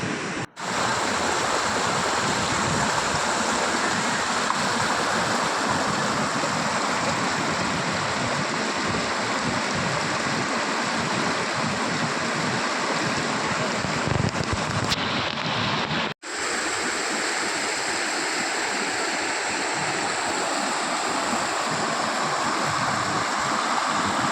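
Athirapally waterfall in Kerala flows with a loud, unbroken roar of rushing water, dense and steady throughout, briefly cutting out twice, with no voices over it.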